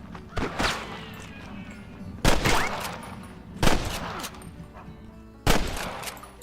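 Gunfire in the western shooter Red Dead Redemption Remastered, four sharp loud bursts spaced irregularly over about six seconds, each with a ringing tail, over a low background rumble.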